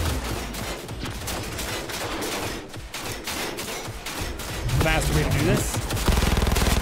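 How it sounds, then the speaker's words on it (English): A fast-firing gun in Cyberpunk 2077 lets off long rapid bursts of loud shots, the rattling volleys continuing almost without pause while someone talks over them. "This gun shoots very fast."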